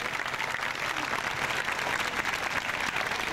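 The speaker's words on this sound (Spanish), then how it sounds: "les podemos brindar un fortísimo aplauso" Steady, continuous applause from a congregation in the Inmaculada Concepción chapel rolls on at moderate volume without a break, with no voices over it.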